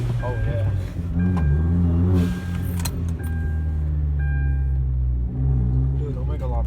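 A Hyundai Genesis Coupe with a rebuilt charge pipe rumbles steadily at low pitch on a test drive, with keys jangling and people talking over the engine throughout.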